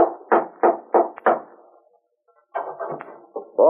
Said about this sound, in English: One evening, he decided to call on Bob, went to his house, and rapped on the door.